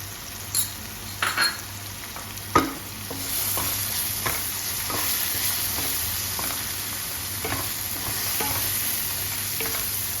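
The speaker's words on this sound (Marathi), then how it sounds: "आणि तो चांगला मसाला हलवून घ्यायचा आहे" A spoon stirs spice masala in a pan while cooking chole, giving a few scraping clinks over a faint continuous sizzle, close and quiet, with no talking.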